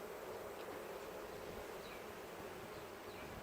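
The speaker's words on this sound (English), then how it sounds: "there's a because lot of bees in there" Honey bees hum in a dense, steady drone from inside a hive during a spring inspection, faint and continuous with no gaps.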